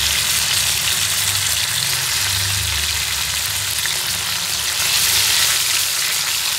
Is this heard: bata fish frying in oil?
yes